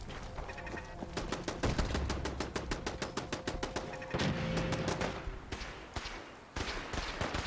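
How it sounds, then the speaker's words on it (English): Automated turrets in Fallout 4 fire rapid, steady bursts of gunshots, dense and continuous for several seconds with a brief pause near the end before the firing resumes. "Automated turrets."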